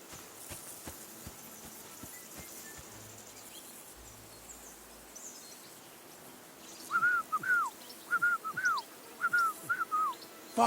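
A character in the medieval video game Kingdom Come: Deliverance 2 whistles a tune, a run of short, bright, repeated whistled notes in the later half, heard over a quiet outdoor ambience with faint clops earlier.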